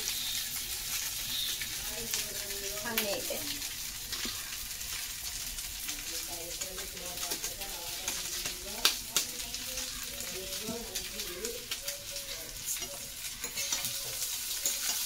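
Onion and egg frying and being stirred in a pan with masala mixed in, giving a steady close sizzle with scraping stir strokes, while faint talk runs underneath.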